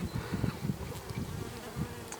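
Steady low buzzing of bees around a log hive, close by and continuous, with no voices.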